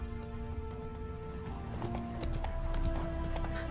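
Clip-clop of Roach, a horse in The Witcher 3 video game, walking at a steady pace with a brief whinny, set against a layered musical score that builds slightly louder toward the end.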